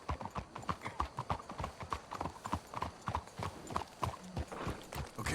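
Horse hooves clip-clop steadily in Red Dead Redemption 2, a brisk, even rhythm of close, distinct hoof strikes running throughout with no other sounds.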